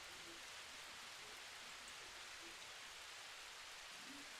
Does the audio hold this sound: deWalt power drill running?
no